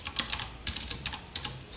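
Code is typed on a computer keyboard during a React coding lesson, producing a quick, irregular run of crisp, close key clicks with no talking.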